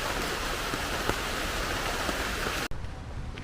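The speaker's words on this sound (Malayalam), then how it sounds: "ഓ മഴ" Steady, loud rain pours down outside a house in Enthayar, a broad continuous hiss of heavy downpour that drops in level sharply near the end.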